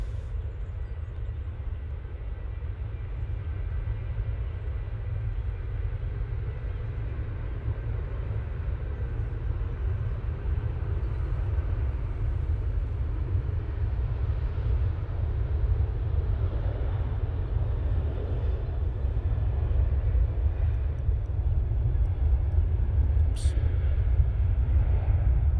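An aircraft on its takeoff roll at Manchester Airport: a steady, heavy low rumble that holds for the whole stretch and builds slightly louder toward the end, with no break.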